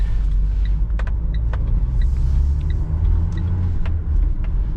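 Inside a moving 2015 Renault Trafic long van with a 1.6 dCi 120 hp diesel engine, a steady low engine rumble and road noise continue throughout, with faint small rattles and clicks.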